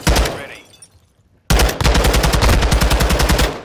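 Automatic gunfire in Call of Duty Modern Warfare 2: a burst at the start, a brief lull, then a long loud run of rapid, evenly spaced shots filling the rest.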